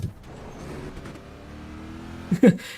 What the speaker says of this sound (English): that V8 sounds like two inline fours put together